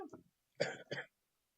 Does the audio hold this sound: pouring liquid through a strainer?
no